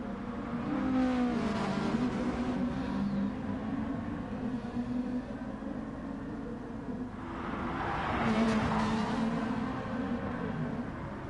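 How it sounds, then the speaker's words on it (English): A car crashes on the Nordschleife in Gran Turismo Sport, with a steady racing engine drone giving way to a loud, rough burst of scraping and impact noise partway through before the engine tone returns. "Oh, bad crash."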